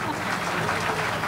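An audience at a literary gathering claps briefly, a dense patter of applause heard for just over a second.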